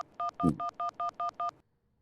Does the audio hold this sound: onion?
no